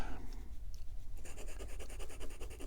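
Esterbrook Estie fountain pen with an extra fine number 6 Jowo nib scratching across paper: close, steady rasping strokes with a rhythmic pulse as the nib moves, no talking.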